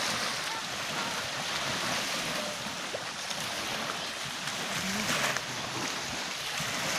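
Waves washing onto the shore of Lake Baikal, a steady broadband surf with wind noise on the microphone, continuous and fairly close with no clear individual breaks.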